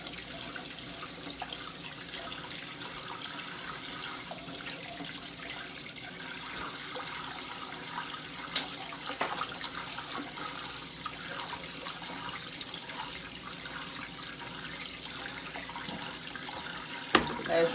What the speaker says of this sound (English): I'm going to really shake it up inside that water so we can shake that starch off of it.